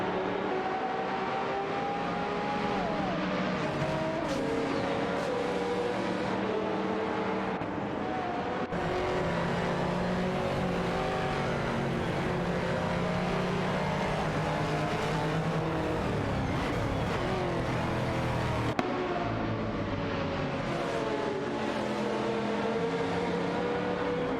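In a video game race, a Seat Cupra GT and a Marcos GT2 race car battle close together; several loud engines whine and rev, rising and falling in pitch as the cars shift gears and pass each other, with no talk.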